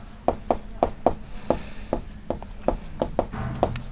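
A pen scratching out numbers by hand on paper while a maths problem is worked, with a quick series of short, close strokes and taps in an irregular rhythm, with no talk.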